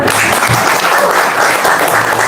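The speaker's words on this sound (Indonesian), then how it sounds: "Tepuk tangan dong." Loud, close applause from a crowd at a talk, many hands clapping in a dense, steady patter that fills the whole stretch with no voices over it.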